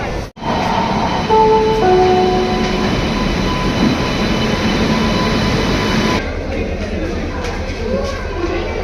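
A sleeper-class train carriage rumbles along loudly and steadily, with brief squealing tones early on and someone talking over the constant running noise.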